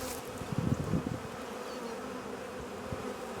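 Honey bees buzz steadily around a hive frame during an early spring split, a soft continuous drone with a few closer, louder passes near the start.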